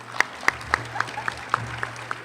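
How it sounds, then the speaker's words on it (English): Students at a graduation ceremony receive applause from the audience: a thin scatter of separate claps, fairly close, with a low steady hum underneath and no talking. "So please give them a round of applause."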